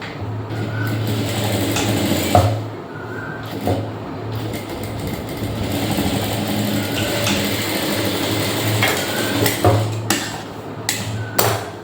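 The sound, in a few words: sewing machine stitching blouse fabric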